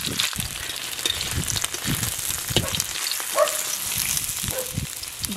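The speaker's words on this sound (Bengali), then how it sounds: "বাকি পনিরগুলো আমি এভাবে ভেজে নেব।" Paneer pieces fry in a pan with a continuous crackling sizzle, punctuated by a few light clinks and taps close by.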